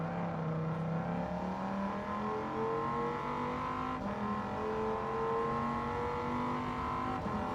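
A race car engine in the video game Gran Turismo 7 drones loudly and continuously, its pitch climbing through the gears with brief dips at shifts.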